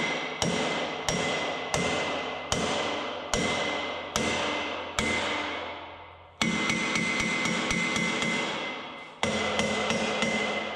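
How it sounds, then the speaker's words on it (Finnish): Hammer striking a rusty cart drawbar, a series of about twelve loud ringing metallic blows in a steady rhythm, each ringing out briefly before the next, close and alone with no talk. "teen tämmösen vasarakokkeen, että onko tämä oikeasti liian laho vai ei"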